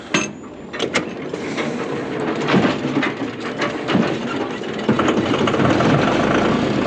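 A diesel engine idles steadily just after a cold glow-plug start, a continuous low rumble with broadband roar filling the whole clip and slight surges in loudness.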